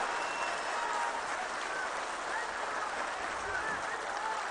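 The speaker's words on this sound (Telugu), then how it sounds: "గట్టిగా చప్పట్లు కొట్టి మీరంతా కూడా అభినందించాల్సిన అవసరం ఉంది." Crowd at a political rally applauding, a dense, even wash of many hands clapping that holds steady throughout at moderate distance.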